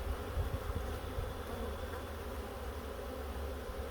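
Honeybees buzz in a dense, steady drone while being rolled in sugar for a mite count from a hive prepared for winter, a low continuous hum with no talking.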